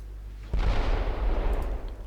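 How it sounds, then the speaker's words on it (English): Torpedoes leaving a warship's launch tubes in the naval strategy game Ultimate Admiral: Dreadnoughts, a sudden deep boom followed by a sustained heavy rumbling whoosh that slowly fades, loud and close, with no talk. "There we go, last torpedoes."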